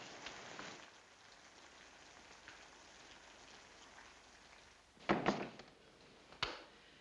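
Steady soft rain patters in the background, followed by a couple of louder thumping knocks near the end.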